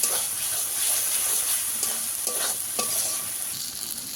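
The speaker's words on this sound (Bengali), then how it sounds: "অল্প অল্প তেল ছেড়ে দিচ্ছি, এটাই বুঝতে হবে যে মশলা ভালো করে কষানো হয়ে গেছে" Spiced masala cooked down with yogurt fries in oil in a pan for a shoal fish kalia with peas, giving a steady, close sizzle with scraping stirring strokes throughout and no talk.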